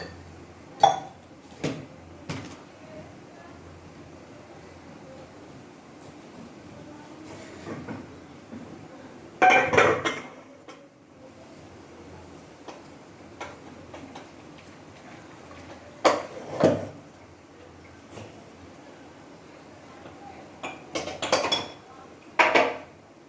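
Cooking pots for dal and rice set on a stove, with scattered metallic clinks and clanks of pots and utensils over quiet room noise, no speech.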